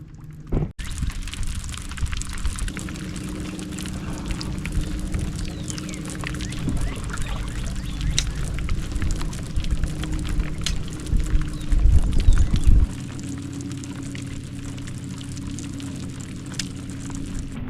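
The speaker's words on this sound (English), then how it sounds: "it wasn't supposed to rain today" Steady rain drums on a small fishing boat out on a lake in Texas, a constant close hiss and patter with a few heavier knocks near the end, no talking.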